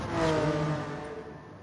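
Car engine in the racing game Gran Turismo 7, a brief rising whir of acceleration that swells early and then tapers off, fairly quiet with no talk.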